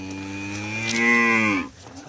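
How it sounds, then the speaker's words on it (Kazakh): A Simmental cow gives one long, loud moo close by, rising in the middle and then breaking off. "Симментал пародадагы малдар көп келиптир"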